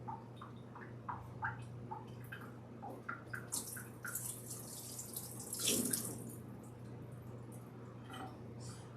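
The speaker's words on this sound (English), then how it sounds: "We're gonna rinse this off." Tap water runs into a sink while a raw turkey is rinsed for a Thanksgiving meal, a soft steady splashing with small irregular drips and a brief louder gush near the end, fairly quiet and without talk.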